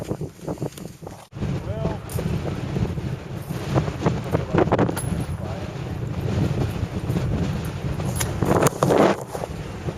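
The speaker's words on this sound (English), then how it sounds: "the wind is whipping" Strong wind buffets the microphone outdoors at a shooting range during a military M16 rifle competition, a steady low roar with gusts swelling toward the end, and voices talking faintly underneath.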